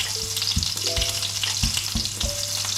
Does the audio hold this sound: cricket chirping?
no